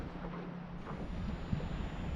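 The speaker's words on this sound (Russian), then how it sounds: "Ветер продолжает дуть." Steady wind blows over open water during a fishing trip by boat, a continuous low rushing hiss with soft buffeting against the microphone and no voices.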